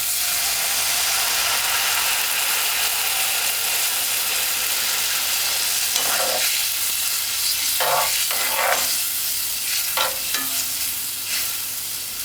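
Food being stirred in a pot with dry herbs before coconut milk is added, while preparing Run Dung: a steady loud sizzle with several scraping, clattering stirs in the second half, no talk.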